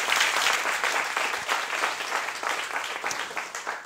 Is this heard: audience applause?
yes